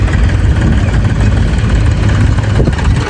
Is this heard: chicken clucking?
no